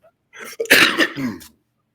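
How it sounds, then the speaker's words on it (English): A burst of harsh, close coughing right into the microphone, a few rough hacks over about a second, then silence. "Sorry, I'm coughing on the mic."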